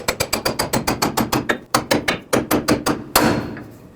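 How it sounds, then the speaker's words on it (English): A hammer strikes a drag link stud on a 2008-2010 Ford F-250 to break it free, a fast, loud, steady series of close metallic blows, about seventeen hits with a brief pause before a final heavier one. "Now grab your hammer right here, and that should break the stud free."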